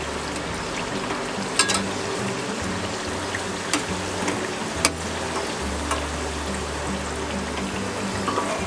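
Sweet kochuri stuffed with chhana frying in hot oil, a steady loud sizzle and bubbling throughout with a few faint clicks of a utensil.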